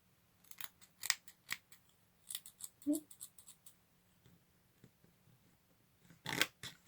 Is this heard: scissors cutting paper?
yes